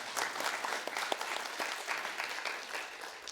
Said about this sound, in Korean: 박수도 안 해주세요.